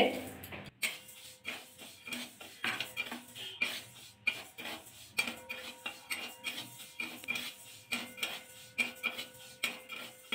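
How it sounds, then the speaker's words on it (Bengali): Moong dal dry-roasting in a kadai, stirred with a metal spoon that clinks and scrapes against the pan in a quick, fairly regular rhythm for about ten seconds, close and moderately loud. "দেখুন বন্ধুরা নাড়াচাড়া করে কিন্তু ভাজা করে নিচ্ছি একদম হালকা করে।"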